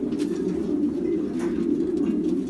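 Pigeons in a breeding loft coo in a steady, low, throaty drone, close and continuous, with faint higher chirps above it and no speech.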